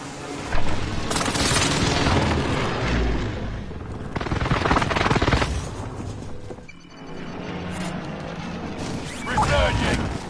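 Precision airstrike explosions boom and crash amid gunfire in a Call of Duty Warzone match, heavy blasts rolling across the clip with a player talking over the chaos.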